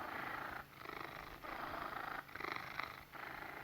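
A cat purrs steadily and close, a soft rumbling drone that pulses in slow rhythmic cycles with brief dips between breaths.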